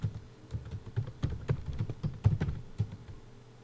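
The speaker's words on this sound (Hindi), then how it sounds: "अब हम दोबारा टाइप करते हैं" Computer keyboard typing in MS Word, close and alone: an irregular run of quick key clacks for several seconds, with a few heavier strikes such as the space bar standing out.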